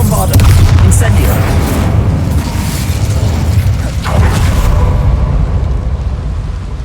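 A loud, booming Bombardo spell explosion in Hogwarts Legacy rumbles heavily with a dense low roar. It is followed by more blasts and sustained rumbling, with speech mixed in.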